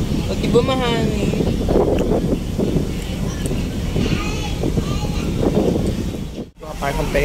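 Wind blasts steadily across the deck of a ferry sailing to Marinduque, a loud rumbling gust noise buffeting the microphone while people talk throughout.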